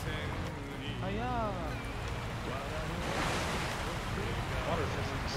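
Water splashing and surging in the video game Sekiro after a character jumps in, a steady wash of surf-like noise with a louder splash burst partway through, under a voice and game sounds.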